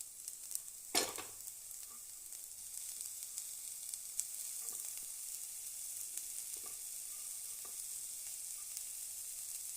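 Cooked banana flower tipped into a hot pan, a sharp burst of sizzle as it lands, then a steady faint hiss of frying with occasional soft stirring scrapes, close and quiet, no voices.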